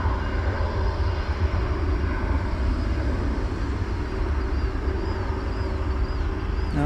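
An airplane taxiing at DFW Airport, a steady distant engine rumble and hum heard outdoors, continuous and unchanging throughout.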